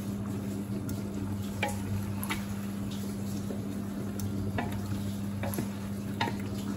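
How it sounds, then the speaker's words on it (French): Meat dusted with flour is stirred in a hot pan, a steady sizzle under repeated soft scraping and clicking strokes close up, with no voices. "je vais bien mélanger pour qu'il y ait de la farine partout"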